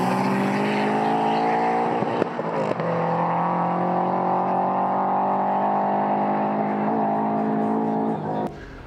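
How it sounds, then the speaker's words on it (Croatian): Golf 2 drag car fitted with a 20-valve Audi turbo engine of about 200 horsepower, a loud sustained engine roar at steady high revs, near and continuous before cutting off abruptly at the end. "Unutra je ugrađen motor iz Audija A318 turbo 20 ventila. Ima nekih otprilike 200 konjskih snaga."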